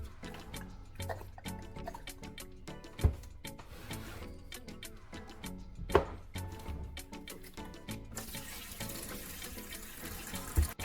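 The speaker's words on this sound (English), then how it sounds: "After pouring the liquid inside out," Cloudy liquid with floating residue poured out of an old battery: a steady trickling, splashing stream with occasional louder drips and plops, close and alone, ending in a brief hiss-like rush.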